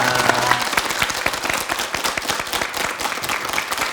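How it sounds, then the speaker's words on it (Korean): A studio audience on a Korean morning talk show breaks into dense, energetic applause after a guest professor's lecture, a loud continuous wash of many hands clapping close by, with no voices over it. "박수로 감사 인사 전하겠습니다"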